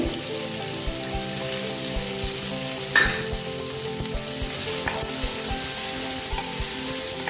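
Beans and carrots sauté in a hot pan for masala semiya, a loud, steady sizzle with scattered clicks and scrapes of stirring throughout and no voices.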